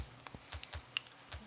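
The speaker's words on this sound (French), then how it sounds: "c'est pas évident de taper avec le clavier dans ce sens" Taps on an Android phone's on-screen keyboard, a handful of soft, irregular clicks spaced close together, faint and near, with no talk over them.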